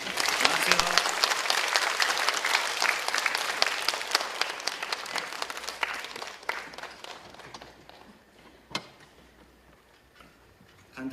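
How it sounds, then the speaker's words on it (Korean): Loud, dense applause from a concert audience greeting young child composers at a children's composition recital, swelling at first and then thinning into scattered claps before fading out, with a single sharp clap near the end. "큰 박수로 맞이해 주시기 바랍니다."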